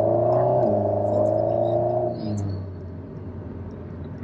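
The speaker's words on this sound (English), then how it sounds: "Great sound of the car." An Alpine A110 sports car engine hums steadily while driving, loud and close, then its pitch drops and settles into a quieter, softer drone.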